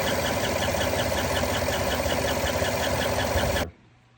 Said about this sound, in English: it turns out it is a lifter roller noise